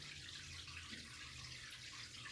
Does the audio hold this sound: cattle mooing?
no